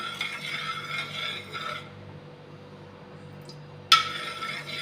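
Oil heating in a pan for amla (Indian gooseberry) pickle: a soft hiss and rustle for about two seconds, then a quieter stretch ending in one sharp metallic clink close by, with no talking.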